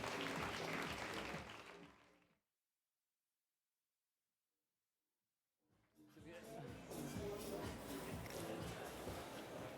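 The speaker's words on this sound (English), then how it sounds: "Please welcome him to the stage with a round of applause." An audience at a London tech conference applauds as a speaker is welcomed to the stage. Dense, sustained clapping fades out into silence for a few seconds, then a second burst of applause rises and carries on to the end.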